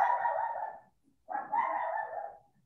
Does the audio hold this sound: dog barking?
yes